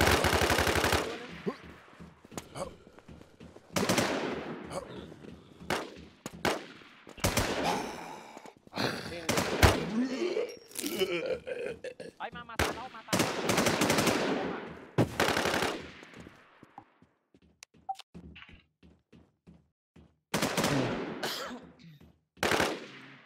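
Gunfire in the shooter game Infestation: repeated bursts of automatic fire and single shots, loud and close, coming in clusters with gaps, under excited voices talking throughout.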